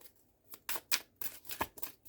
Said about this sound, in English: Spirit is saying to keep on shuffling.